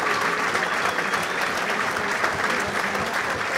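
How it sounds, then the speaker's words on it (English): Diners applaud appreciatively at a boxing event after a final-round injury to an army boxer, a steady, even wash of clapping from a seated crowd throughout. "Once more, appreciative applause from the diners here"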